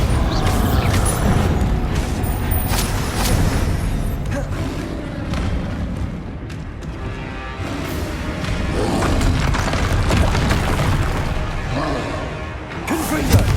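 Bombarda spell explosions and combat impacts from Hogwarts Legacy come as loud booms and crashes in quick succession. A voice calls out spell names between the blasts.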